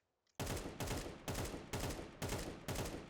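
Rapid rifle bursts in Counter-Strike 2: after a brief quiet start come six loud, evenly spaced automatic bursts, close and sharp, with no talking.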